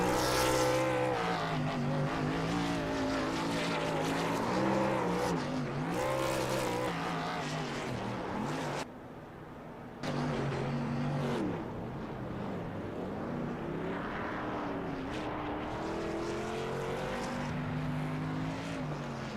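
Toyota Tundra race trucks doing celebratory donuts in a racing video game at Phoenix, with loud continuous engine whine rising and falling in pitch, a brief dip midway, then resuming.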